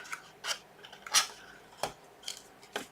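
Close, crisp scissor snips cut through paper while a small gift box for bath salt packets is being made, about half a dozen short cuts in an uneven rhythm with no talking.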